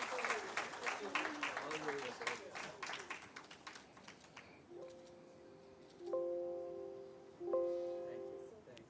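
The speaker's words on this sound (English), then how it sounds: "request you all to please give a big round of applause" An audience at a women's day design-chapter event in Hyderabad breaks into applause for several seconds. The clapping is dense and fades as a nearby voice begins speaking into a microphone.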